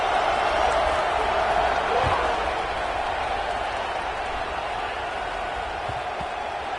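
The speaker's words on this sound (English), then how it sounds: "this crowd is buzzing after that last score" Large football stadium crowd at a UCLA–Oregon game buzzing after a score, a dense, steady roar of many voices filling the space, slightly louder at first and then holding level.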